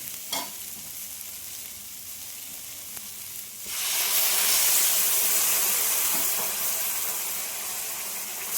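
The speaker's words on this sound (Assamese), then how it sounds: "এতিয়া মই ইয়াতে অকণমান পানী দিওঁ।" After a quiet stretch with a clink, a sudden loud hissing sizzle erupts as water hits the hot pan of spices, then slowly settles into a steady bubbling hiss.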